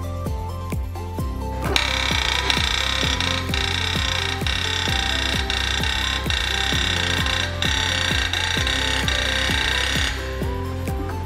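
A SIC e-Mark marking machine's stylus hammers a workpiece in a fast, steady mechanical rhythm under a loud continuous whine, close and unbroken throughout, with no talking.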